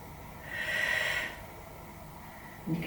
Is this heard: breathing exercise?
yes